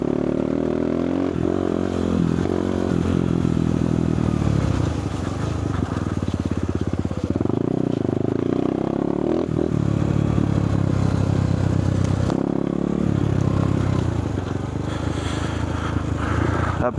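A CRZ ERZ 150 dirt bike rides through a forest, its engine droning close and loud throughout with shifting revs, rattles and scrapes of the trail, and no talk over it.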